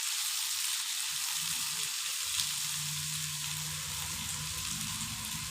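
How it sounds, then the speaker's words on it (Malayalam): Onion and crushed ginger frying in a pan, a steady close hiss of sizzling oil with faint stirring underneath, continuous and even throughout. "എന്നിട്ട് വലിയ ഉള്ളി, ഇഞ്ചി ചതച്ചത് ചതച്ചിട്ട് എന്നിട്ട് വഴറ്റി നല്ലോണം വഴറ്റുക."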